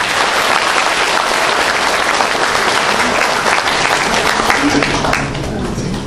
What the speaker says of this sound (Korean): 한 번 더 이원우 교장 선생님께 박수를 드립니다